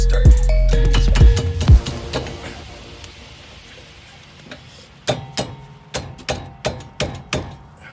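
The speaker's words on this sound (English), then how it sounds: "So to take the rotor, just hammer." Metal hammer strikes on a Scion FR-S front brake rotor during a rotor replacement: a few loud bangs at the start, then about eight evenly spaced, sharp ringing blows near the end, with no talk.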